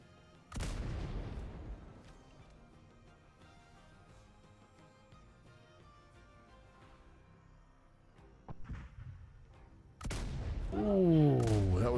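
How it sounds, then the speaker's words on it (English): Field cannons firing in a naval roleplay video game, with a heavy boom near the start, quieter rumbling and a smaller report, then another loud blast followed by ringing, falling tones. "so we'll just go down and do field cannons"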